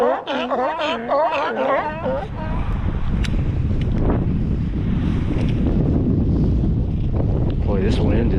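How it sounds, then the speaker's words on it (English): Strong wind buffets the microphone in a continuous low roar on an open bay while kayaking, with water sloshing beneath, and a person talks briefly at the start. "Boy, this wind is really pushing us around."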